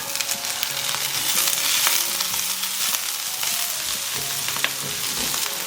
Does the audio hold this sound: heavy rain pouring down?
no